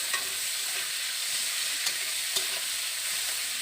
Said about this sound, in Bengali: পেঁয়াজটাকে আমি ভালো করে ভেজে নেব প্রথমে।